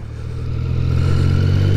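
A motorcycle with its stock exhaust rides along, the engine droning loud and close with a rising, steady pitch as wind rush builds beneath it over a short stretch.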